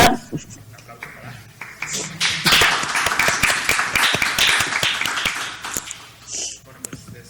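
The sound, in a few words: applause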